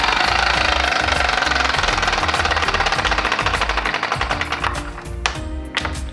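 Homemade compressed air engine running on high pressure, a loud rapid mechanical chatter that holds steady, then slows and turns uneven toward the end with a few sharp bursts.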